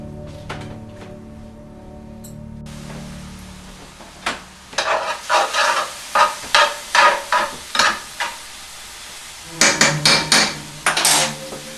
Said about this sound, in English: Okay, and then you just let that cook a bit, brown it a bit